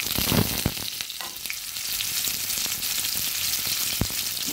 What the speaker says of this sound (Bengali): পেঁয়াজটা এবার ভেজে নিচ্ছি।